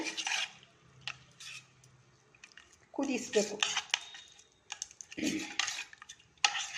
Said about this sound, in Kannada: ಇದನ್ನೆಲ್ಲ ಗಂಟಿಲ್ಲದ ರೀತಿ ಚೆನ್ನಾಗಿ ಕೆಳಗಡೆನೇ ತಿರ್ಕೊಬಿಡ್ತೀನಿ